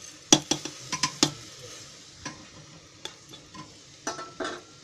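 Tomato, chilli masala, garam masala and washed rice go into a cooker and are stirred, producing a cluster of sharp metallic spoon clinks and scrapes early on. Quieter stirring taps and a soft sizzle follow, with no talking.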